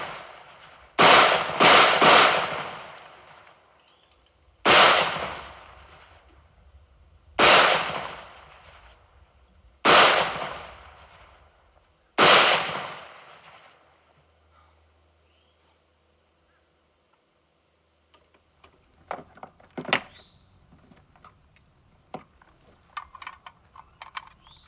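A semi-automatic rifle fires six loud, sharp gunshots outdoors, with a quick pair and a triple at the start and then evenly spaced single shots every couple of seconds, each followed by a short echo, then quiet shuffling.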